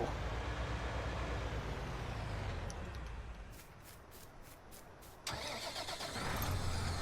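Tractor engine in Farming Simulator 19 idles steadily and close, drops to a quieter lull with faint clicks, then rumbles back up loudly near the end.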